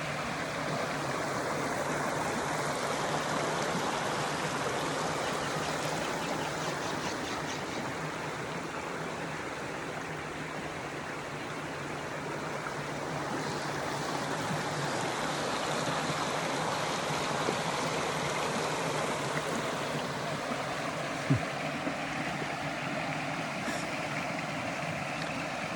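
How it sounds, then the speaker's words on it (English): Water rushes continuously down a creek, a steady broad burbling and splashing heard alone and close with no voices. "just like you hear the sound of this wonderful creek"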